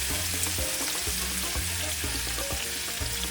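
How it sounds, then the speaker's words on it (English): Onions sauté in a hot pan for Cuban arroz con pollo, giving a continuous loud sizzle with a few stirring knocks and no talk over it. "We're going to start with sauteing the Holy Trinity here."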